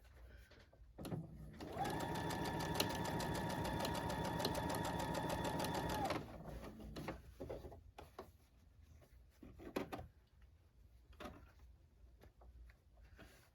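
A sewing machine stitches a seam in one continuous run of about four seconds, a fast even motor whir with rapid needle clatter, followed by quieter handling of fabric and soft rustles.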